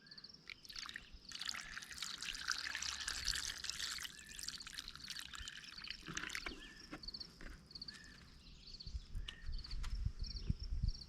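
Water pours and trickles into a rock tumbler drum over stones for several seconds, splashing close by, then tapers into faint drips and light clinks.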